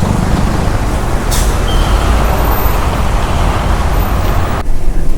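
An Alibag–Panvel bus pulls in under a loud, continuous roar of engine and road noise, with a sharp air-brake hiss breaking through near the start.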